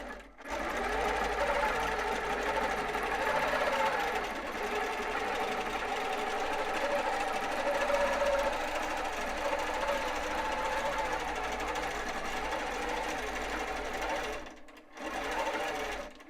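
Long arm sewing machine stitching backwards across a pleated pillow, a steady close motor hum and rapid needle rattle running continuously, dropping out briefly near the end before resuming.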